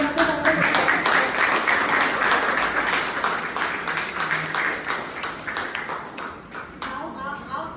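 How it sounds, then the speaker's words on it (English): A round of applause from the audience at a Toastmasters meeting, a moderate patter of clapping from a small group that continues steadily and slowly tapers, with speech audible in the room. "So another round of applause."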